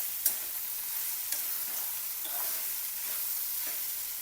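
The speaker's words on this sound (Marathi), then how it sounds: "भिजवलेले पोहे परतून घ्यायचे." Soaked poha stir-fried in oil with salt and turmeric, a soft steady sizzle with a few light scrapes of the spoon against the pan, no talking.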